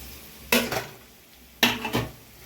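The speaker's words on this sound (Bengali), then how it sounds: "চালটা দিয়ে কম আঁচে নাড়বো" Rice is stirred in a pan over low heat after frying onions, with two bursts of scraping and clattering from a utensil against the pan over a quiet background.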